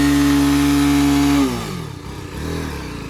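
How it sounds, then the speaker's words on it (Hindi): A TVS Apache RR 310 motorcycle revs hard during a burnout at high, sustained pitch, then drops sharply and sputters into a lower, uneven rumble before picking up slightly again. "आप ऐसे किसी सरफेस पे बाइक को लगाओ और बर्नआउट मारो"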